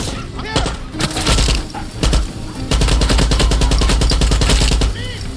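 Rapid gunfire from a mid-range gun in Far Cry 6, sustained bursts of close, loud shots layered with game sounds, briefly broken then resuming steadily near the end.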